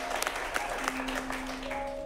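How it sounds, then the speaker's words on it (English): Light, scattered clapping from a small improv comedy audience for three performers, fairly quiet and brief, with a few sharper claps and a faint voice over the top. "Let's give a round of applause to these 3 guys"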